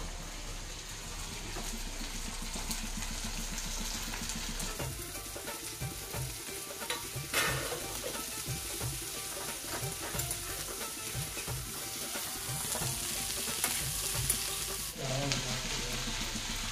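Okra sabzi stir-fried in a pan, a continuous close sizzle broken by stirring scrapes and shifting pieces that briefly swell louder.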